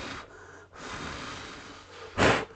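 A person blows hard, a steady breathy rush of air lasting a couple of seconds and ending in a stronger, louder puff, close up.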